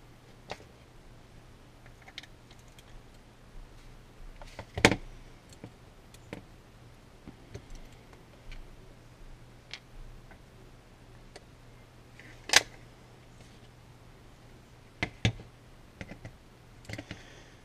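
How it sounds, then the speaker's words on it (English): Small screws being worked out of an Elite Force 1911 pistol with an Allen key, giving faint scattered metallic ticks and clicks at irregular intervals over a steady low hum, close by with no talk. "you'll want to take your Allen and pull the screws out."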